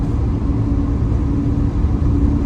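A 2000 Ford Ranger pickup with a 3-litre engine and a Dynomax Ultra-Flo stainless cat-back exhaust gives a loud, deep, steady exhaust drone at a constant idle, close and unbroken, with no talking.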